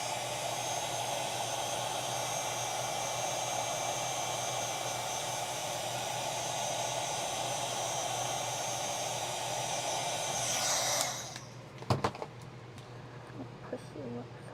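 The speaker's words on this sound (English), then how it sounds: "Hit you with the heat gun one more time." Heat gun blasting hot air over freshly poured resin dice, a loud steady roaring hiss that holds for about eleven seconds, then cuts off, leaving a few clicks and faint handling noises.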